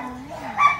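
Small rescued puppy giving a short whimpering yip, close and fairly loud, over a brief moment of indoor sound.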